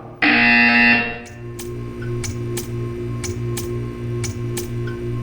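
In the video game Portal 2, an electronic alarm tone blares briefly, then a steady buzzer hum pulses in a regular rhythm with sharp periodic clicks, loud and close.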